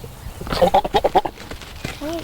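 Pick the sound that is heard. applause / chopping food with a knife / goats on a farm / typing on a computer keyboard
goats on a farm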